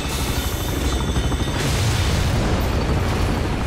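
An enemy is shot down and explodes in the shooter game Bulletstorm. A dense, loud rumbling blast roars continuously with no breaks, a heavy sustained boom filling the whole stretch.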